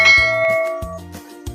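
A notification bell sound effect plays as a short series of bright ringing chimes and dings, loud and close with no voice.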